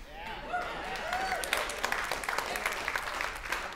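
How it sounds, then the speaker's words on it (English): A church congregation claps, starting softly under a raised voice and building into scattered, distinct hand claps that grow denser toward the end, all fairly faint and roomy. "Oh, you're clapping"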